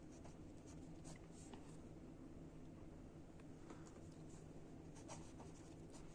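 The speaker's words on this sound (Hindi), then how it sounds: "सबसे पहले हम लिखेंगे" Pen or pencil scratching across paper while writing out a Class 10 trigonometry solution, a faint steady run of short strokes over a constant background hiss, with no talking.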